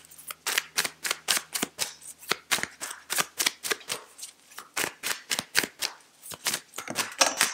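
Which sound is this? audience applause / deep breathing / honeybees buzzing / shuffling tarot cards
shuffling tarot cards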